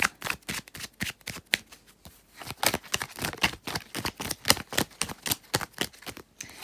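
Tarot cards are shuffled by hand in a quick series of close, crisp riffling slaps and flicks that repeat in an uneven rhythm throughout, with no talking.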